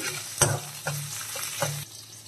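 Garlic sizzling in a pan of hot oil alongside cumin seeds, a soft steady crackle broken by a few louder stirring scrapes, close and with no voices.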